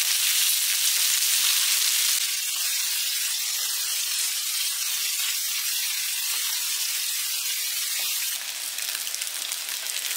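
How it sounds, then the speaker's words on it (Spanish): Jalapeño chiles fry in hot sausage fat in a pan, a loud, dense, continuous sizzle close up, with fine crackles and pops throughout. "Voy a meter los chiles jalapeños ahí para que se vayan dorando o friendo."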